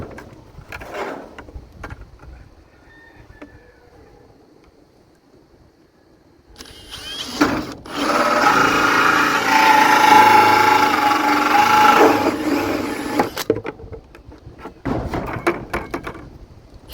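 A handheld power drill with a slightly loose chuck bores into a plastic bucket for a chicken feeder, one sustained whirring grind of several seconds, close and fairly loud between quieter handling noises.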